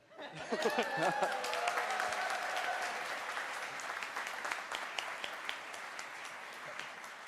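Applause from the award ceremony audience for Team Canada at the European Cybersecurity Challenge 2024, a dense, even round of clapping that starts at once and holds steady throughout, with faint chuckles early on.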